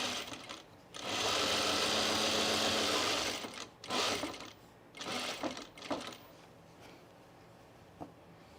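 A sewing machine runs a rolled hem in bursts: one long steady whirring stretch, then several shorter stop-start runs with brief pauses between them, fairly close and clear.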